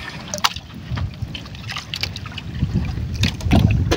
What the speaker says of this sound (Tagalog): Kuya Larry Boy, andar na makina.